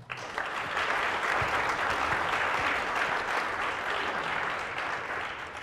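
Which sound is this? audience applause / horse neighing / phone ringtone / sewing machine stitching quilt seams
audience applause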